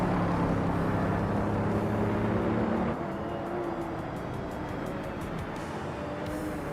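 Race cars in a racing video game, including a 2012 Aston Martin Vantage GT3 and an Audi R8, roar steadily around the track as a dense, continuous engine drone with a tonal whine that shifts partway through.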